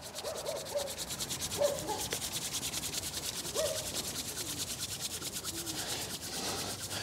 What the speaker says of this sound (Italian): proprio mettici tanta forza in modo tale da creare proprio attrito e sentire le mani calde